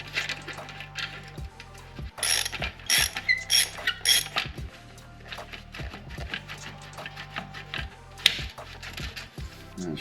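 Mechanical clicking from a ratchet working a tight nut on the back side of an exhaust clamp on a Kawasaki ZX6R during an M4 exhaust install, with bursts of rapid clicks and pauses over a steady low hum.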